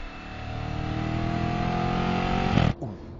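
A 2013 Audi RS5 with a dual-flap exhaust rises in a steady engine rev, then gives a short, loud exhaust burp as the throttle lifts, heard from inside the car with no talking.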